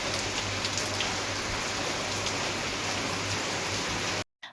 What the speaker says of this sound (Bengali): বেলকানিতে গিয়ে দাঁড়াতে না দাঁড়াতেই শুরু হয়ে গেল বৃষ্টি